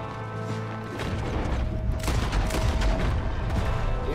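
Sustained gunfire from Red Dead Redemption, a dense, rattling volley of overlapping shots that swells after the first second and keeps going loud and steady to the end.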